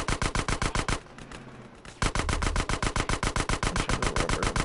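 Automatic gunfire in GTA San Andreas: rapid, evenly spaced shots in a loud steady burst that stops for about a second of rougher noise, then starts again with a heavy thump.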